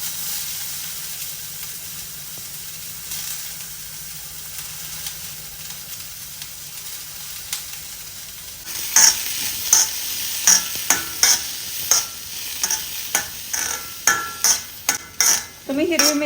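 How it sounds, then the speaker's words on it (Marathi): French beans and carrots frying in a pan: a soft steady sizzle at first, then a spoon or spatula scrapes and stirs repeatedly in sharp, loud, close strokes over continued frying hiss. "मी इथे पहिल्यांदा फ्रेंच बीन्स आणि गाजर घालून चांगलं शिजवून घेणार आहे."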